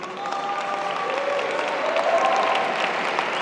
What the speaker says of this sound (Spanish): Denle un aplauso a la de OnlyFans.